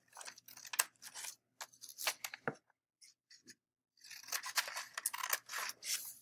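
Scissors snip through paper handout flaps in bursts of crisp, close cuts, with a brief quiet gap midway before a further run of steady snipping.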